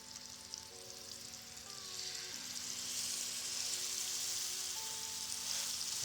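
Salmon sears in a hot pan with a steady, close sizzle of frying that grows louder and denser after a couple of seconds, with faint clinks and shifting tones, and no talking.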